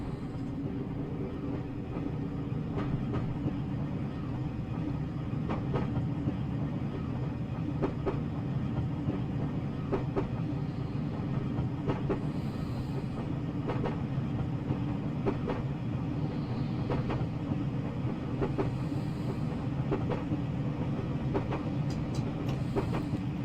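Class 506 electric train running in Train Simulator Classic, a steady continuous rumble of traction and rolling wheels with faint periodic rail clicks throughout, no talking.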